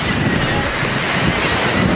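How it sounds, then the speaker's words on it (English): Ocean waves roll in on a windy, cool beach with the tide coming in, a steady wash of surf mixed with loud wind buffeting the microphone throughout. "And these tides are coming in."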